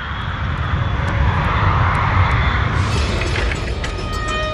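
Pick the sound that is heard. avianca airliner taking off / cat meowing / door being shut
avianca airliner taking off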